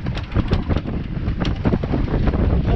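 Strong wind buffets the microphone aboard a sailboat in a fresh breeze, loud uneven gusts and rushing noise that pulse irregularly with no talk.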